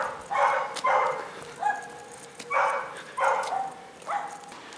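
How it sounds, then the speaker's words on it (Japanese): A dog barks repeatedly from some distance outdoors, about six sharp, evenly spaced barks over a quiet background with faint ambient hiss. "ワンコエラ吠えとるけど、"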